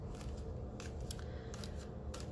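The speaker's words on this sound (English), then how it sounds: "I did shuffle these cards" Quiet, crisp riffling bursts of tarot cards being shuffled, repeating every half second or so, close and soft.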